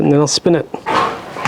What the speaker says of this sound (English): sorry about my dogs in the background. They're playing.